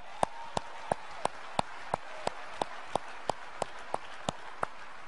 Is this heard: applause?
yes